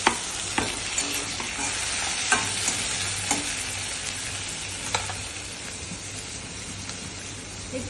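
Crushed garlic and tomato sautéing in a pan sizzle continuously and loudly up close, with occasional sharp taps and scrapes of a spoon stirring through the steady frying hiss.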